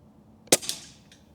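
A single rifle shot fired at a steel paddle target, a sharp close crack followed by a quick fainter ring of the hit, then a faint distant echo in an otherwise quiet outdoor setting.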